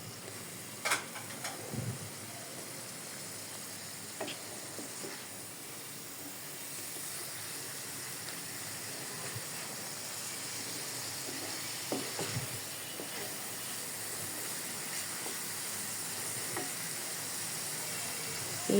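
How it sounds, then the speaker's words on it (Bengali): Small fish cooked with spices in oil alone, without water, give a quiet, continuous sizzle and hiss, broken by a few light clicks and stirring knocks, with no voices. "পুরোটা কিন্তু আমি তেলের উপরেই ভাজছি, কোনো পানি অ্যাড করিনি"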